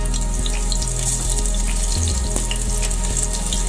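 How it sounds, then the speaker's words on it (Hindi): Finely chopped onions dropped into hot mustard oil in a pan for beetroot curry, giving a steady, close, continuous hiss and sizzle with occasional bubbling pops, no talking. "ऑयल हमारा गर्म हो गया है तो ये प्याज जो है इसमें बारीक बारीक ये हम डाल देंगे"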